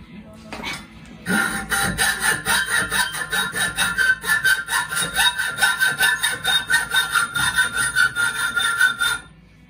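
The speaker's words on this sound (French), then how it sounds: "avec une scie à métaux." Rapid back-and-forth hacksaw strokes rasping through a metal bar, close and steady, after a brief quieter start; no voices.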